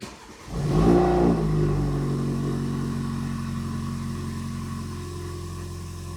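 BMW 428i with an N20 engine revving once, a quick rise to a loud rev that then settles into a steady idle with a faint rattle, close up and without talk.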